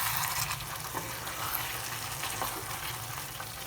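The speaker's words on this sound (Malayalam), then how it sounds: "ഈ വെള്ളം വേണമെങ്കിൽ നമ്മുടെ ഈ ചിക്കൻ വേവിച്ച വെള്ളം തന്നെ നമുക്ക് ഒഴിച്ചു കൊടുക്കാം" Chicken cooking water poured into a Christmas chicken mappas curry thickened with maida, a steady broadband rush of liquid at close range throughout.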